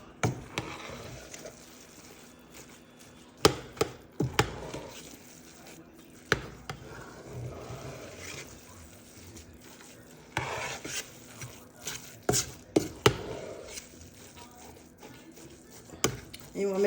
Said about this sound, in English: So we're gonna stir, stir,